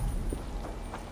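A horse gallops in the video game Assassin's Creed Valhalla, quick muffled hoofbeats under a dense, noisy game soundscape, brief and fairly faint.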